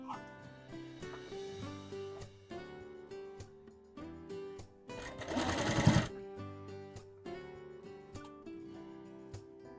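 A sewing machine stitches along the neckline of a long gown in quick bursts of mechanical chatter with short pauses, fairly faint and close, with a louder rush of stitching midway.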